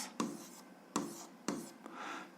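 Pen strokes writing an algebra equation by hand on paper, three distinct scratchy strokes at roughly half-second intervals followed by a softer continuous scribble, close and quiet.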